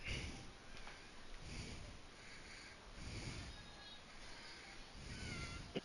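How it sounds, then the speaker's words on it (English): A cat meows faintly a few times indoors, the thin cries partly buried under a steady hiss and low background rumble. "Stop fucking meowing."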